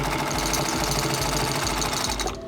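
Industrial leather sewing machine with a clutch or servo motor running, a loud, continuous low motor drone with a rapid rhythmic knocking from the needle mechanism throughout, fading slightly at the end.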